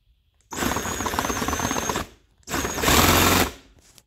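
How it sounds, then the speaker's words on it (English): A DeWalt drill spins a speedometer gear cable from a Honda in two bursts, roughly a second and a half and then one second long. Each burst is a close, buzzing mechanical whir, with a short pause between them. "I just have this in a DeWalt, and I'm going to spin it, and then we're going to watch the gauge"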